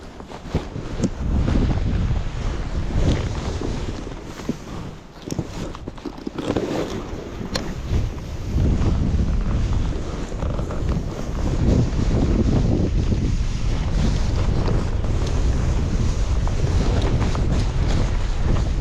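Gusty mountain wind on a ski slope buffets the microphone while snow kiting, a loud roaring rush that surges and dips unevenly, with no talking.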